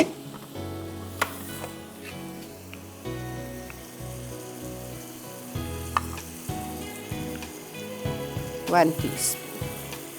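Chicken mince and chops being sautéed in a karahi, with an uneven sizzle under clattering utensil knocks and stirring scrapes, while someone talks briefly.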